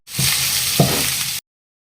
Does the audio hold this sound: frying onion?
yes